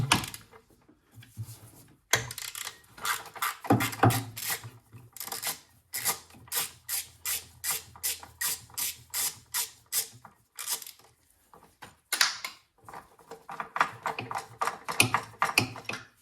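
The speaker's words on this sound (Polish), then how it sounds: "Tu jest piąta śruba. Więc odkręcamy tą piątą," The fifth and last bolt on a BMW 2.0d diesel intake manifold is loosened with a wrench, giving a rapid series of short rasping ratchet clicks in quick strokes with brief pauses between them, heard close and without talk.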